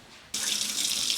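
Tap water suddenly starts running into a small sauce pot, a steady close hissing splash that continues without pause after a brief quiet moment.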